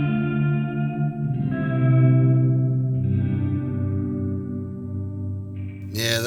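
Guitar played through the springy reverb of a Hotone Ampero Mini sustains chords that shift several times, each ringing with a lush, wobbling tail, loud and close with no voices.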